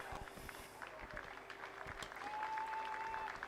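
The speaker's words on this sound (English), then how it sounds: "Ladies and gentlemen, a round of applause for our champions and medalists in the Schoolboy Coxed Quad Scull." Spectators at a schools rowing championship applaud the medal winners of a schoolboy coxed quad scull race, a distant, steady patter of crowd clapping outdoors that grows slightly fuller toward the end, with a brief whistle-like tone.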